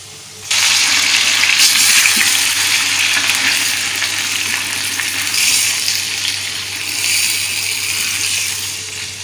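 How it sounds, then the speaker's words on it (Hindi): Chicken added to a pan of round-sliced onions for a chicken dahi masala, giving a loud, steady sizzle of frying that starts abruptly after a brief pause and holds evenly throughout. "ये हमने गोल गोल प्याज काट ली तो हम इसमें चिकन डाल देंगे और उसको ढक देंगे"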